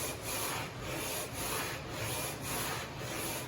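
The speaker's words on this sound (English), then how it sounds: "Nice full sanding stroke" A guitar fretboard is hand-sanded to its radius in rhythmic, back-and-forth rubbing strokes of abrasive on wood, about two per second, quiet and close with no talking.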